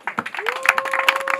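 Audience applause rises quickly into loose, uneven clapping, with a steady electronic whine or feedback tone running underneath.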